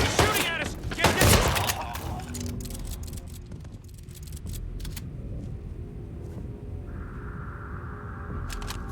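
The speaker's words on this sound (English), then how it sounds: "He's shooting at us!" Gunfire in Hitman 3, a loud burst of sharp shots at the start followed by scattered single cracks and snaps over a low rumbling game background, with voices speaking briefly.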